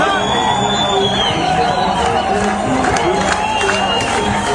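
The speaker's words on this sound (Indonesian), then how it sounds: "Sorak-sorak warga Palestina turun ke jalan untuk merayakan kemenangan tim nasional Mesir" Palestinian crowd cheering in the streets of Gaza after Egypt's national team win in World Cup qualifying, a loud continuous roar of massed voices with whoops and babble, steady throughout.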